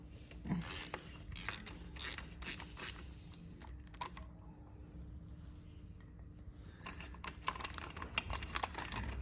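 Ratcheting socket wrench with a 19mm socket loosening a bolt on a BMW F900R motorcycle, bursts of rapid clicking ratchet strokes with a quiet pause in the middle, close but fairly soft.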